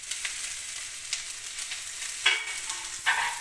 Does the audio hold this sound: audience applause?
no